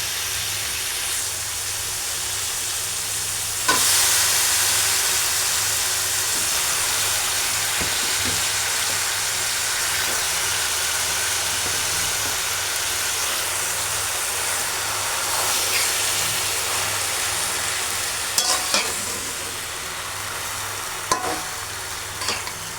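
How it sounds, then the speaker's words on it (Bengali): Shrimp being fried and stirred with spices in a pan, a steady broadband sizzle running throughout with occasional scraping stir clicks and a sharper burst partway through, with no talking. "এখন সুন্দরভাবে কষে চিংড়ি মাছগুলো মশলার সাথে"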